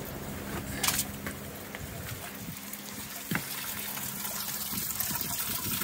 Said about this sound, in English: So now the water's running down there like it's supposed to be running down there.